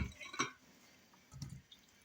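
Wet hands dipped into a bowl of water while shaping lazy cabbage rolls in a kitchen, giving two faint, brief splashy dips with quiet dripping between them.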